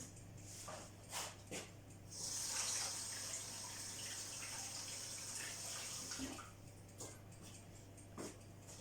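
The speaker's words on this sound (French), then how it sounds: "Alors pour ça, d'abord, je vais me laver les mains." Tap water runs steadily into a sink as hands are washed in a home kitchen, a soft continuous rush with faint splashes and a few clicks, fairly quiet and without talk.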